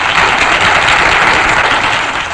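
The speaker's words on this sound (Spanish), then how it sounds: "al locutor Gabriel Matilla, para quien pido el primer aplauso de bienvenida a fin de que se vaya acostumbrando a sus programas cara al público." Radio studio audience giving a welcoming round of applause, a loud, dense, continuous burst of clapping lasting a couple of seconds with no talk.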